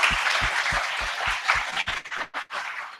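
Applause from an audience at an event, a dense wash of clapping that starts loud and breaks up into scattered claps as it fades out within a few seconds.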